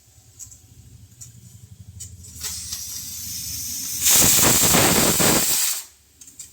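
A pressure cooker cooking rice hisses in short bursts, then lets out a loud sustained steam whistle lasting nearly two seconds before cutting off sharply, close by with no talking.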